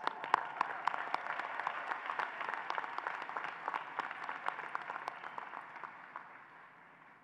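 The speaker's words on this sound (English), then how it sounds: "so let's give some applause" Applause from a commencement audience at a university college of applied health sciences ceremony, a dense steady wash of many hands clapping that fades slightly toward the end.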